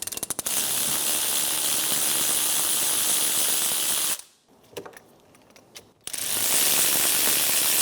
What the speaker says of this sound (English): Using a 17mm wrench, I'm going to hold the caliper pin while I remove the bolt.